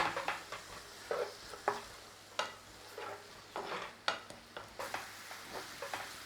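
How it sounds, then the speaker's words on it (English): Chopped onion sautéing gently in a pan, a quiet sizzle broken by repeated spatula stirs and scrapes in an uneven rhythm, with no talk. "A little bit of saute in there."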